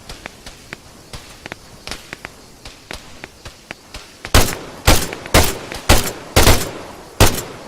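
Gunfire in the Arma 3 military campaign: a run of light single shots, then a heavier burst of loud, close, sharply spaced reports, with no talk.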